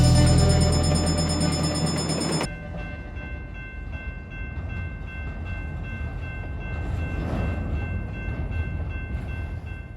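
A train passes close by with a steady dinging bell and heavy rumble, loud at first, then settling into a continuous rolling clatter with the repeated bell ringing on.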